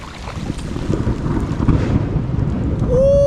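Thunder from a lightning strike over a river during a kayak camping trip, a low rolling rumble mixed with wind noise on the microphone and rain, fairly loud and close.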